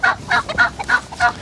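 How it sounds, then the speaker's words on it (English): Ducks on a homestead quacking: a rapid run of loud, close, nasal calls repeating several times a second. "we're walking up over to the ducks, which we can clearly hear and see"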